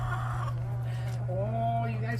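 Backyard chickens clucking and calling with drawn-out, rising notes, close by over a steady low hum.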